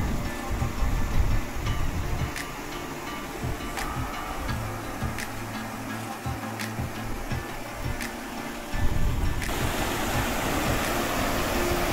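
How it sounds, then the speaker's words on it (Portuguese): A small stream runs across a rural road in Santa Eulália, its steady trickle of flowing water continuous and close, with faint ticking clicks and a shift in the background hiss near the end. "Esse córregozinho que cruza a estrada tá indo desaguar lá no Arroio Cadeia"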